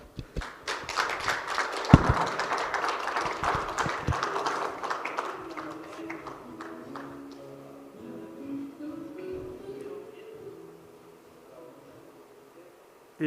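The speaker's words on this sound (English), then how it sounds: "Please give him a big applause." Audience applause at an academic forum welcoming a university president, a dense burst of clapping that swells in the first seconds and then thins and fades over several seconds.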